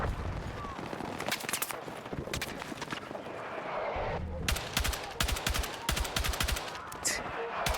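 Sharp SMG fire in a video game, rattling in quick automatic bursts with a brief pause near the middle before the shooting resumes, loud and close.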